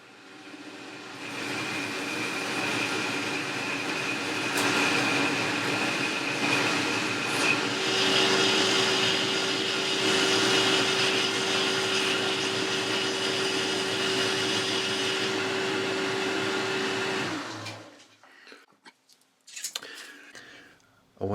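A metal lathe turns a workpiece down to 8 mm ahead of cutting an M8 thread, a steady loud whirring hum with a sustained whining tone that runs for about seventeen seconds and then stops, leaving near silence.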